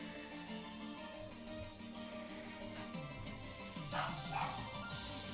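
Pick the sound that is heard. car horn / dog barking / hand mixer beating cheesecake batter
dog barking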